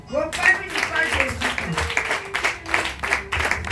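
A church congregation claps in acclaim of Jesus, a loose burst of applause running under a preacher's loud voice and scattered shouts.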